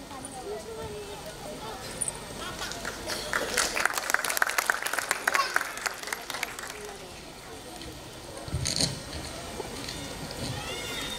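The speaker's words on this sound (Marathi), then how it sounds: "माननीय सौ सायली विजय तळेकर यांच्यासाठी एकदा जोरदार टाळ्या झाल्या पाहिजेत." Audience applause at an awards ceremony, a broad burst of clapping that swells through the middle and fades, with a second brief surge near the end over a murmuring hall.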